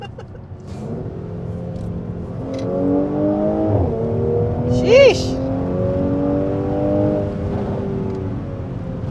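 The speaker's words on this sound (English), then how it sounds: "Yeah, exhaust makes nice burbles, on the upshifts" A Mercedes C43 AMG (C450) pulls through the gears, its exhaust rising in pitch with each upshift and burbling at the changes; a person briefly exclaims over the steady, near engine note.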